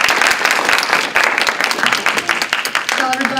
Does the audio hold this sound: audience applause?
yes